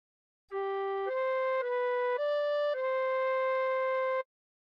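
Recorder playing a phrase of the hymn Nearer My God to Thee, five clear sustained notes in a row with small pitch steps between them, pure and breathy, loud and alone.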